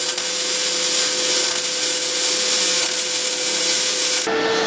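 Pulse MIG welding with a Paton ProMIG-200 welder produces a continuous loud, harsh crackling hiss with a steady underlying hum that cuts off abruptly near the end.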